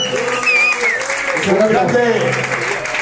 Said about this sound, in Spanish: taxista John Renete Fuerte aplauso para él